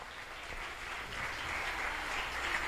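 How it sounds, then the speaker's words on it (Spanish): Audience applause at a preparatory school graduation, a steady wash of clapping that holds at a moderate level and swells slightly toward the end, with no voices standing out. "Ok, un fuerte aplauso para mucho nan."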